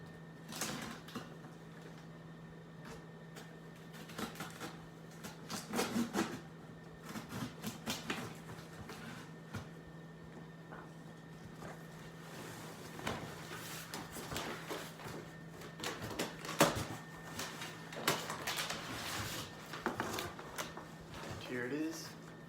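A cardboard box holding a euphonium is cut open: quiet, scratchy bursts of slicing and rustling come in irregular clusters, close up and faint.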